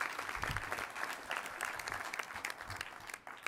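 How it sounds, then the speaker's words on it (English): An audience at a 2013 President's Council on Fitness, Sports & Nutrition member meeting claps for council co-chair Dominique Dawes, a steady burst of applause of moderate loudness throughout. "Round of applause for Dominique."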